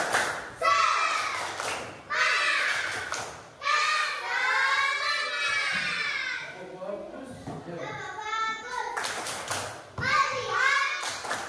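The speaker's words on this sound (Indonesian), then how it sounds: "silahkan tepuk semangat dulu" Schoolchildren in a classroom perform the tepuk semangat spirit clap, bursts of rhythmic group clapping alternating with loud chanted children's voices.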